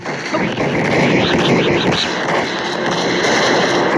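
Gunfire from a shooting video game rattles in quick bursts, mixed with warbling electronic game tones. A voice talks over the action.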